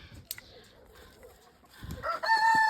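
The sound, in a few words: chickens clucking and rooster crowing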